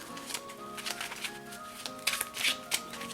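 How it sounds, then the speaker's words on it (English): A deck of Yu-Gi-Oh cards is shuffled by hand, a quiet run of soft riffling and flicking card sounds with a few sharper snaps near the end, close and with no talk. "so we're gonna do a nice shuffle here"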